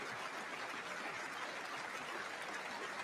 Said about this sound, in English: The Democrats are clapping.